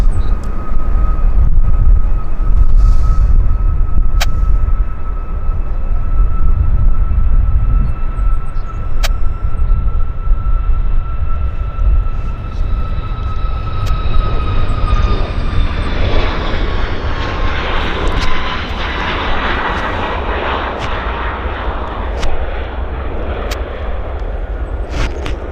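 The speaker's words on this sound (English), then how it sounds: "Gentle climb out with the gear tucking up." An airliner takes off from Vancouver Airport and climbs out, a loud steady jet engine roar with a whining tone that rises and broadens as the aircraft powers away, heard alone without talk.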